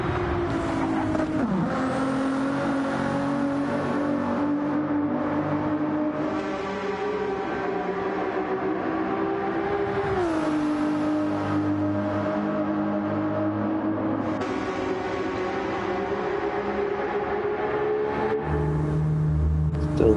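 Race cars lapping the Nürburgring in a 24-hour sim race, a close steady engine drone rising and falling through gear shifts and revs, holding loud and continuous with pitch sweeps as the car accelerates and brakes.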